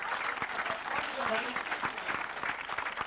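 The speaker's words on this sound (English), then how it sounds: "Would you give her a big round of applause for preparing for it?" Audience at a 1988 reception for a marathon runner's Dublin charity run gives a round of applause, a moderately loud wash of clapping with some voices mixed in.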